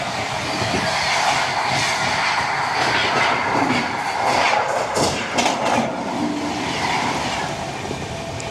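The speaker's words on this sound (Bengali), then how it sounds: "এই যে দুরন্ত এক্সপ্রেস গেল" The New Delhi to Bhubaneswar Duronto Express roars past close by, a loud sustained rush of wheels and clattering carriages that fills the whole stretch.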